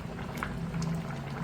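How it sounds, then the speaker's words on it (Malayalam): Egg masala curry bubbling steadily in a pan, a soft continuous simmer with faint pops of bursting bubbles, close and moderately loud with no talk. "എൻ്റെ കറി നന്നായിട്ട് തിളച്ചിട്ടുണ്ട്, കുറുകി വന്നിട്ടുണ്ട്."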